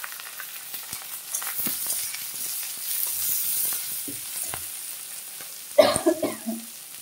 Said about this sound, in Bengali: পেঁয়াজ দিয়ে দিলাম, কাঁচা লঙ্কা, পেঁয়াজ, টমেটো সব একসঙ্গে দিয়ে দিলাম।